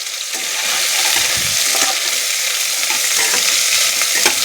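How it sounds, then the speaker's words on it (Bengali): Soaked soybean chops frying in oil give a loud, continuous bubbling sizzle with occasional crackles and light clinks throughout. "কিভাবে চপটা বানাই এই যে তেলের মধ্যে দিয়ে দিলাম।"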